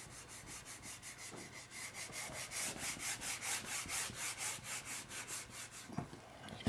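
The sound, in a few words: rubbing out writing to erase it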